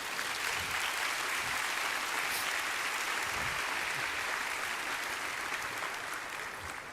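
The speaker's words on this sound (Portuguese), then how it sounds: "Se é para Jesus, você pode aplaudir." A church congregation applauds during a Portuguese-language sermon, producing a steady, dense wash of clapping that stays loud and even for several seconds before easing slightly at the end.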